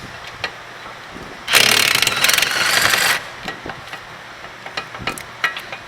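Bearing bolts on a Toyota RAV4 front wheel bearing are loosened with a swivel socket. A loud, harsh mechanical burst runs for about a second and a half, followed by scattered faint clicks and knocks.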